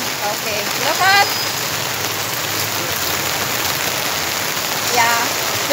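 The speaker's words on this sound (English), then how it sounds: "it's raining outside here" Steady rain pours down outside a row of stores beside a road in Iriga City, a dense continuous hiss of drops on surfaces at close range, with faint chirping calls briefly rising above it.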